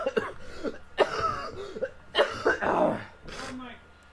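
Several harsh, close coughs burst out in quick succession, with throat-clearing rasps between them, loud and without background noise.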